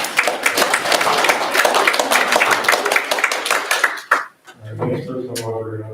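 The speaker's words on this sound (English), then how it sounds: "It's okay, you can clap one." Audience applause at a memorial service, steady dense clapping for about four seconds that cuts off abruptly, followed by a close voice speaking.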